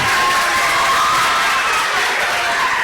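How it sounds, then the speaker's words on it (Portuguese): Schoolchildren and adults at a municipal school samba project applaud and cheer for Vitor, a loud, dense wash of clapping and shouting voices sustained evenly throughout. "salva de palmas pro Vitor."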